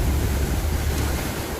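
Floodwaters of the swollen Parvati, Kali Sindh and Parvan rivers rush in a steady, loud, broadband roar that holds without a break, with a wind-like hiss over it.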